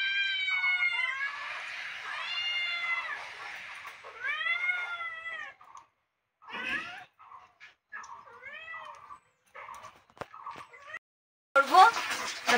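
A cat meows repeatedly at close range in a rural kitchen, several drawn-out, rising and falling cries with short gaps between them, plus a brief louder burst at the end.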